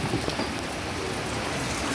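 Heavy rain pours steadily in a dense, unbroken hiss at Thewet on the Chao Phraya River, loud and close throughout, with no voices.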